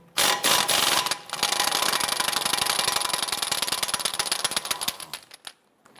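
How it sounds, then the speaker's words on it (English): Rapid rattling bursts of a power tool on a 30mm socket loosening the CV axle nut on a 2007-2012 Nissan Versa, one short burst then a longer continuous run of several seconds, close and loud. "Use a 30mm socket to loosen the CV axle nut."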